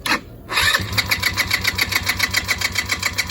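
The starter motor on a Chinese ATV cranks rapidly and steadily after a brief click, a loud, close, rhythmic whirring chatter that continues without the engine catching.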